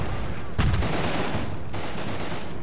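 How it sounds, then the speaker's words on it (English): Mortar fire in the Normandy war game Combat Mission: Battle for Normandy, a dense rumble of distant blasts and crackling gunfire with a sharper burst near the start, continuous battle noise throughout. "Good, the mortars are coming in."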